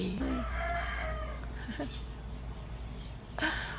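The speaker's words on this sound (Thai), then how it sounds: "เสียงไก่" A rooster crows in drawn-out, harmonic calls, with shorter clucks after, over a steady background of chirping crickets, in a garden.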